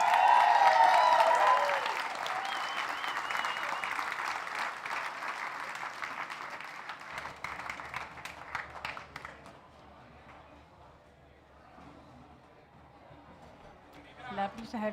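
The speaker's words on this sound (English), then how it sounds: "A round of applause, ladies and gentlemen, for all our 1, 2, and 3 plate and Gold Plate winners" An audience at a restaurant awards ceremony bursts into loud, sustained applause for Gold Plate and plate-award winners, then the clapping gradually thins and fades as voices talk over it.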